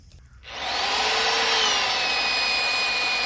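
A drill with a long auger bit bores into oak, starting abruptly and holding a loud, steady high whine that drones on alone with no voices.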